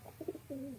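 Domestic pigeons, a male and female pair kept as high-flying sport birds, coo faintly up close: a few soft, short throaty pulses followed by one longer rolling coo.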